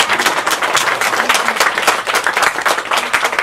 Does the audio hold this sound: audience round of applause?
yes